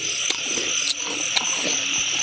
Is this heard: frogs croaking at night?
yes